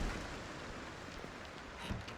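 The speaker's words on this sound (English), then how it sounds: "But this rain is... it's actually picking up quite a lot." Steady rain falls in the Project Zomboid video game, a dense, even hiss of heavy downpour with no breaks, faint and without talk.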